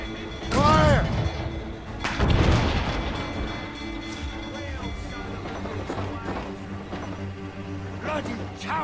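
Ship cannons fire in a naval battle in Assassin's Creed Rogue, with loud booming blasts near the start and around two seconds, followed by lower rumble, creaking and shouted voices.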